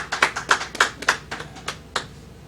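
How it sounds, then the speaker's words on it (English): A small audience at a gathering welcomes a minister with scattered applause, a handful of crisp, distinct claps in an uneven rhythm that thins out and trails away after about two seconds. "Give him a round of applause."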